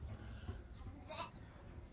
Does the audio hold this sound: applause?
no